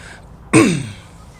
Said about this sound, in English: Sorry for clearing my throat in the mic.